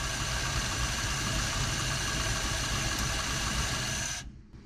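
A 1947 Ford Coupe's flathead V8, abandoned for 15 years, idles steadily with a rough, rumbling exhaust note and a small exhaust leak, close and loud, then cuts off abruptly near the end.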